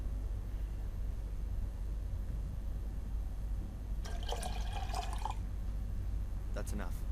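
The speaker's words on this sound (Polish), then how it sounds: "Muszę wlać wywoływacz chyba." Photo developer liquid pouring into a developing tank in the Black Mirror 2 game, a short trickling splash of about a second followed by a brief second dribble, fairly faint over a steady low hum.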